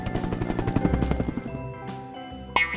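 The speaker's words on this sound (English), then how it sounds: "H is for helicopter." A helicopter sound effect set within a children's alphabet song, its rotor-like thrum mixed with bright musical tones and ending on a sharp hit.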